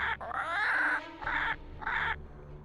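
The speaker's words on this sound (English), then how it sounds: "Ah, the bird. The bird is awesome." A crow in the Nancy Drew game Curse of Blackmoor Manor gives three loud, close, harsh caws, one long followed by two shorter calls, with no talk over them.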